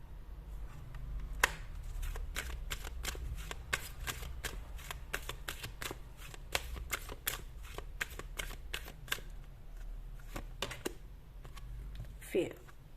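Tarot cards being shuffled and handled, a rapid series of crisp riffling snaps and flicks, close and fairly quiet over a low background hum.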